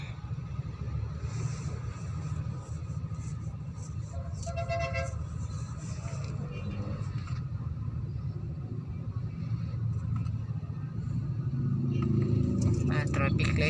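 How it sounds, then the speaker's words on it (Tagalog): Road traffic at a busy traffic light on a route from Marikina toward Taytay, a steady rumble of passing cars with a brief horn toot, under ongoing talk. "And guys, may traffic."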